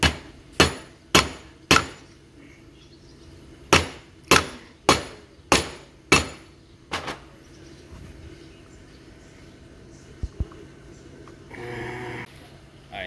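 Hammer blows struck on top of a seal to drive it into place, a run of about ten sharp, loud metallic strikes in an uneven rhythm, followed by quieter handling noise.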